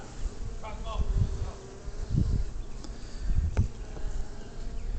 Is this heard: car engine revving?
no